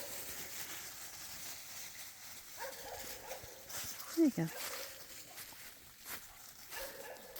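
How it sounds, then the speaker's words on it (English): A dog on a countryside walk lets out a single short bark near the middle, close by, with a person talking over a background of outdoor noise. "still having a bark"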